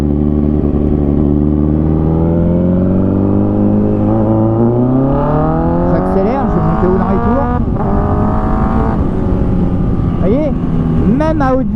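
Car engine revving loudly and climbing steadily in pitch, then dropping and rising again as the driver shifts into second gear without the clutch, with a voice talking over the engine partway through.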